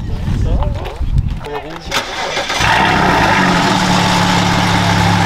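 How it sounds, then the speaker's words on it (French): A warm car engine cranks and fires, then settles into a loud, steady idle close by; someone talks over the opening seconds before the start. "Donc là il m'a démarré cette jeune voiture."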